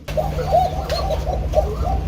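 Arabian kuka pigeons at a large pigeon farm in Gazipur coo in a series of soft, rounded calls close by, repeating several times over a low background hum.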